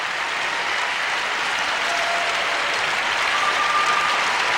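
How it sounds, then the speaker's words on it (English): An arena audience at the 1994 Lillehammer Winter Games ladies' figure skating technical program gives lukewarm applause, an even, distant wash of clapping that holds steady without swelling. "And rather lukewarm applause from the audience."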